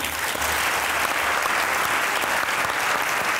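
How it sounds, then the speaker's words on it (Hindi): An audience at a Pakistani comedy show breaks into sustained, loud applause as a poet is welcomed onto the stage, with steady dense clapping throughout and no talking. "आपकी भरपूर तालियों में"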